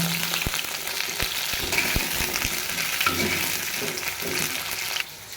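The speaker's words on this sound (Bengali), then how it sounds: "এখন তেল দেব আলুগুলো ভেজে নেব লাল লাল করে আলুগুলো ভেজে নেব" Potato pieces frying in hot oil for a chicken dish, a steady, close crackling sizzle with occasional stirring knocks, with no voices.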